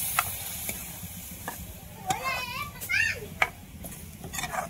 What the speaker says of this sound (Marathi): तर्री आल्याच्या नंतरच आपल्याला चिकनची भाजी सोडून द्यायची आहे. परतून घेऊ मस्त सर्व बाजूनं.